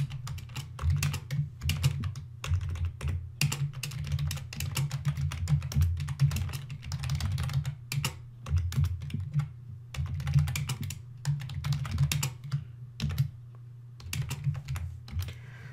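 Computer keyboard keys clatter in quick, uneven bursts as an SQLite SELECT query is typed, close and moderately loud with short pauses between runs of keystrokes.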